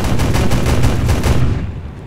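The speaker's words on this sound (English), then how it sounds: "the BIS, my 23mm cannon, is firing a lot" A 23mm cannon on a MiG-15 jet fires in War Thunder, a loud rapid burst of heavy thudding shots lasting over a second before trailing off.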